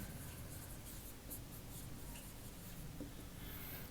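Pen or marker writing on a board during a physics lecture, a continuous close scratching and rubbing stroke sound running steadily throughout with no talking.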